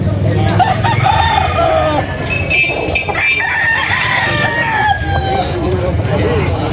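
A young gamefowl rooster crows and clucks at a poultry sale, loud and close, with someone talking over the birds and other fowl calling around them.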